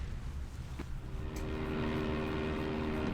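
Propeller planes in the video game Indiana Jones and the Emperor's Tomb at Peng Lai Mountain, a steady engine drone that grows slightly louder and more tonal, with a brief click early on and no speech.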